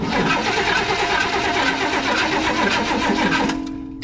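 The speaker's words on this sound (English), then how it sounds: "New carburetor is on. I think we're pretty much ready to fire it up." A 1973 Cadillac Eldorado convertible engine with a newly fitted carburetor cranks loudly and rhythmically at close range for several seconds, the starter's pulsing churn cutting off abruptly near the end without a clear catch.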